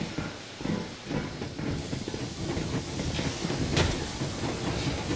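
A steam train in the game Metro Exodus pulls away, a steady hissing rush of steam over rumbling low-end motion, loud and continuous with a brief bright burst near the end.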